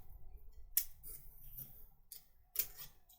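Scissors snip through quilt fabric pieces beside a ruler, two crisp cuts about two seconds apart standing out over a quiet background with light handling noise between them.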